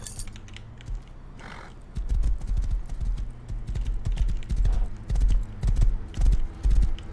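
Rhythmic clip-clop of horse hooves in the game Rust grows louder and steadier after a quiet start, with a brief whinny-like sound early on.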